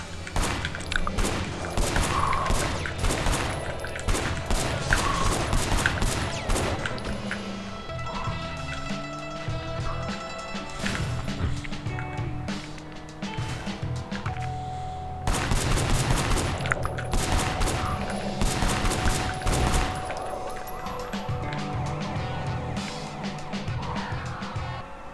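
Dense gunfire fills a chaotic police shootout in the video game Sleeping Dogs, with rapid bursts and volleys blending with engine and skidding noise, loud and nearly continuous throughout.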